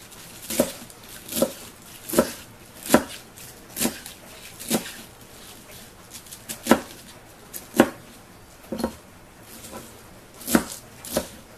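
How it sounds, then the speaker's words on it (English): A knife chops through cabbage on a board, about fifteen crisp, evenly spaced strokes sounding close and alone with no talk. "They need to be chopped."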